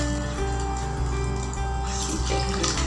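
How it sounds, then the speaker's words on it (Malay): Water poured into a pan of braised yong tau foo in oyster sauce, a steady pouring gush heard up close and fairly loud, with no talking. "I'm gonna add a bit of water"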